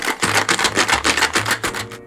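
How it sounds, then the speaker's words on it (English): A cocktail shaker holding fresh lemon juice and gin is shaken hard for a French 75. Rapid, loud, rhythmic rattling bursts come about five per second, close up, with no talk. "Now shake the cocktail for 15 seconds."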